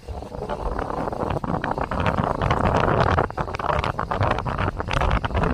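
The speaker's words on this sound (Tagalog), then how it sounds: "Kahit malakas yung hangin, okay lang." Strong wind buffets the microphone in a steady, heavy roar during ultralight fishing outdoors, surging and dipping throughout with no pauses.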